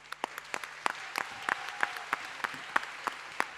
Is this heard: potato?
no